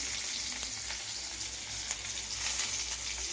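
Sliced onion frying in oil with panch phoron and a whole chilli in a pan for masoor dal with vegetables, a steady close sizzle with faint stirring ticks.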